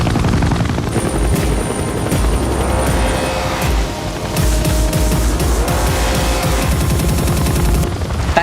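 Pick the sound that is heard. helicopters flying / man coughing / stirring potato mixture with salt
helicopters flying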